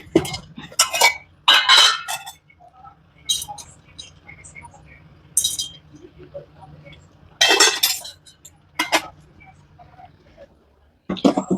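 Turmeric being stirred into a homemade soap mixture in a container, intermittent scraping and clinking of a utensil against the vessel in short bursts, close, with a person talking between strokes.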